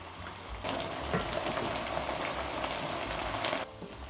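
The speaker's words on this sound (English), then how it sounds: "A ladle of mushroom stock goes in." Risotto with mushroom stock simmering in a pan gives a close, dense bubbling hiss that holds steady for a few seconds, then drops abruptly to a quieter bubbling.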